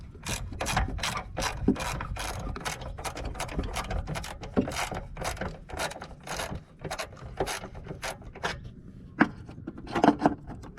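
Rapid clicking of a ratchet wrench loosening the battery terminal on a 2013-2018 Subaru XV Crosstrek, close and steady in quick bursts of ratcheting strokes with brief pauses, no talking.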